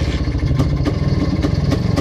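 A small petrol engine runs right after starting on the first try, a rapid rhythmic chugging putter with regular clattery pulses, loud and close, no voices.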